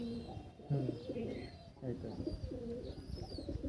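Pigeons coo steadily in a loft of Giribaz flying pigeons, a continuous low rolling cooing over faint background chirps.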